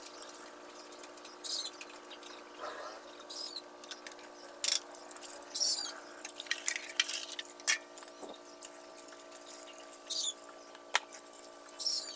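Dishes being washed with running water at a home sink, a faint continuous trickle under scattered clinks and taps of plates, several sharp clatters spread through the stretch, no talking.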